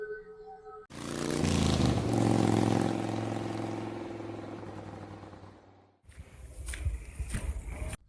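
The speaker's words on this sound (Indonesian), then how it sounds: "Mendengar suara motor yang berhenti di depan rumahnya" A motorcycle engine roars in, loud and close, then winds down to a stop before a brief clattering noise follows.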